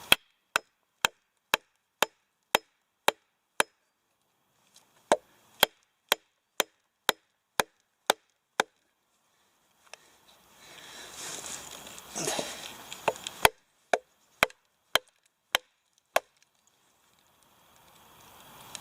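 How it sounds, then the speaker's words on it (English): Hammer strikes on a steel wedge splitting a log, sharp evenly spaced metallic blows, then a stretch of creaking, cracking wood as the split opens, followed by more blows. "It's splitting straight down, cracking nicely now."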